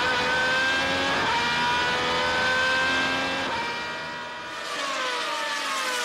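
Superleague Formula single-seater race cars in a pack at the Nürburgring, engines screaming loud and close with rising and falling revs through corners, a continuous high-pitched roar with overlapping cars.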